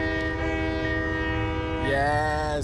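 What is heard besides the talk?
train horn in the video game Train Life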